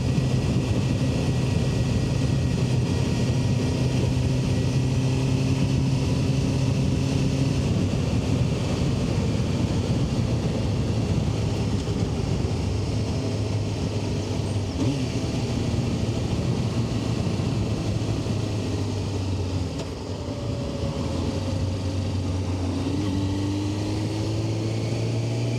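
A Honda CBR600F sport motorcycle riding along Yorkshire country roads gives a steady, loud engine drone with shifting tones, heavy wind rush over the microphone, and a brief dip in revs near the end.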